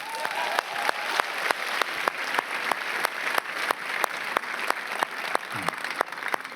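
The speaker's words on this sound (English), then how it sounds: "Please welcome and give a big applause to Doug Belgrade." Premiere audience at a Berlin red-carpet event for Bad Boys for Life applauding, steady crowd clapping throughout, punctuated by rhythmic loud claps close by and a brief whistle.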